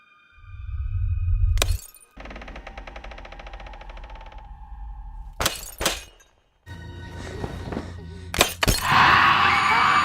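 Glass shatters loudly several times in a horror film scene, sharp breaking crashes separated by tense pauses and low rumbling effects.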